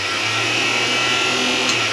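A propane stove's range hood fan running with the outside vent flap closed, making a steady, loud whooshing roar with a strained whine, unbroken for the whole moment.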